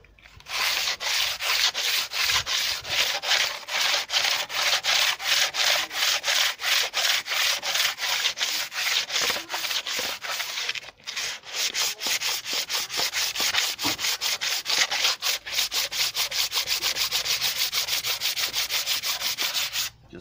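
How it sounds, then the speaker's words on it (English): Someone lightly rubs old gasket material off a cylinder head. A steady, rhythmic scraping of back-and-forth strokes continues for twenty seconds without pause apart from one short break, close and fairly loud, with no talking. "Lightly rubbing to get the worst of the old gasket material off."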